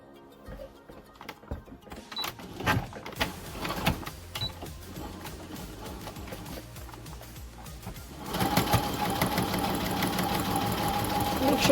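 A sewing machine stitches fabric for a duck-bill face mask, its motor whirring in bursts and then running steadily and louder near the end, close and with no talking.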